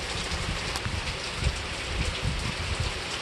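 Steady rain falls and patters on surfaces outdoors, a dense continuous hiss with scattered louder drops, no voices.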